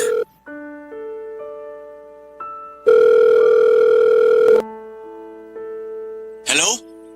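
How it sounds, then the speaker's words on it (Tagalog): A telephone rings in electronic tones, with a sustained, louder central burst and shorter stepped tones around it, ending in a brief noisy burst. "Ayun, nagring."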